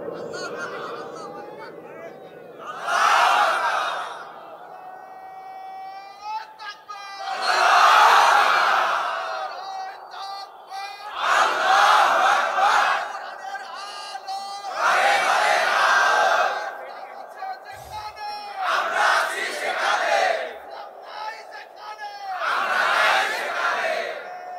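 Crowd at an outdoor Islamic religious sermon (waz) in Jessore shouting slogans in repeated loud bursts, each swelling and fading, with a preacher's amplified voice in between.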